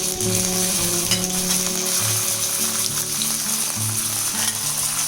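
Dals, a dried red chili and curry leaves fry in hot oil, giving off a loud, continuous close-up sizzle with faint stirring scrapes and no talk.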